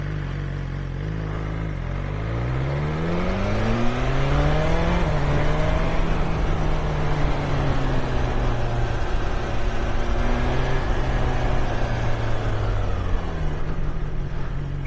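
A 2021 BMW S1000 XR motorcycle engine running loud and close, revving up and down with rising and falling pitch sweeps over a steady rumbling idle, no voices over it.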